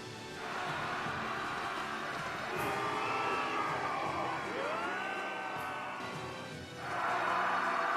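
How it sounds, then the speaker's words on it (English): Cheering crowd in the video game Tales of Graces F, a distant swell of voices whooping and shouting that rises, dips, then swells again toward the end, with game music faintly underneath. "I hear people cheering."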